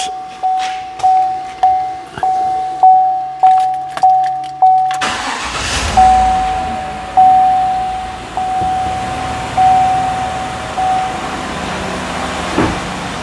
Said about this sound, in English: Park, apply parking brake, start engine, raise RPM to 1800 for the duration of the engine running portion of the test.